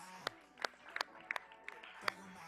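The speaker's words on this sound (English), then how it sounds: "Give him a round of applause" A small audience claps to welcome a speaker onto a stage at a community conversation event: a handful of sharp, sparse claps at uneven intervals, quiet and close, over a faint room murmur.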